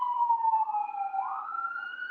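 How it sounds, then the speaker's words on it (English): A police car siren wails on a Brooklyn street, a loud continuous tone that slides slowly downward and then rises again as the vehicle passes close by. "Y'all hear the sirens?"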